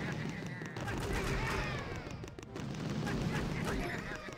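Boom cannons fire again and again in the mobile strategy game Boom Beach Warships, a dense barrage of booming blasts and gunfire layered with game effects, loud throughout.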